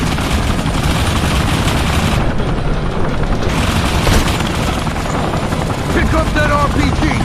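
Modern Combat 3 shooter game combat: a helicopter's rotor drone mixes with bursts of machine-gun fire and booms, loud and dense throughout, with voiced game dialogue over the din.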